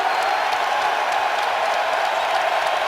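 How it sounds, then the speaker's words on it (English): A basketball arena crowd cheers the Minnesota Timberwolves at home against the Wizards, a continuous roar of applause and cheering with scattered claps, loud and dense throughout. "You can hear the crowd expressing its delight with what they're seeing here tonight for the Timberwolves"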